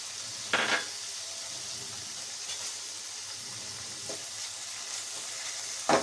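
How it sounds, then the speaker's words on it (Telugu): Steady oily sizzling of tamarind leaves frying in a pan fills the clip, with a few brief sharper crackles and stirring clinks. "చింత చిగురు వేయించుకుందామండి"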